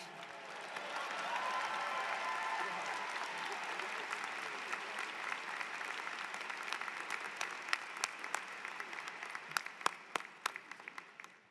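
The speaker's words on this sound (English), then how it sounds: "Another round of applause for Riccardo." A graduation ceremony audience applauds at length, a dense wash of clapping that starts strong, then slowly thins into scattered individual claps toward the end.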